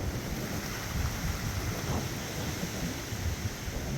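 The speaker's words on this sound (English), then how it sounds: "the wind is picking up" Steady roaring wind during Hurricane Helene near Tampa, a constant broadband rush with gusty swells and buffeting against the microphone, close and loud throughout.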